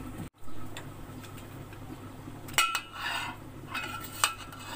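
Spoon mixing chana chaat with salt in a bowl, scattered clinks and scrapes against the dish, a few sharper taps standing out over a quiet background.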